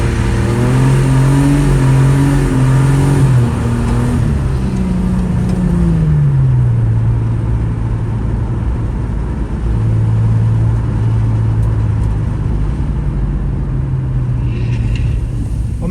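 A drift car at a Mallala drift day tips in and accelerates hard down the straight, its engine note loud and close, rising and falling through revs over a steady tyre and exhaust roar with no talk.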